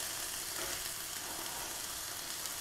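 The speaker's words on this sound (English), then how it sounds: "So I'm going to be keeping my eye on these peppers and onions, stirring them, making sure they don't burn." Peppers and onions frying in a pan make a dense, even hiss, close and constant, with no voice and no clear break for stirring.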